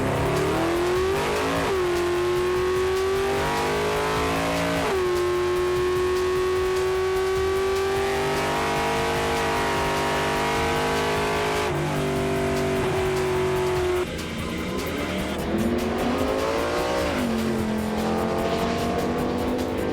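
Holden Commodore cars racing at Heathcote drag strip, with loud engines revving hard through repeated gear changes, the pitch climbing and dropping in steps over a sustained roar, close by.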